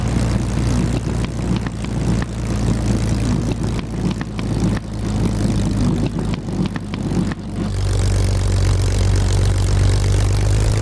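Spitfire Mk IX piston engine in the DCS flight simulator, a loud, steady propeller drone throughout, with rhythmic pulsing for several seconds before the engine note smooths and rises in power.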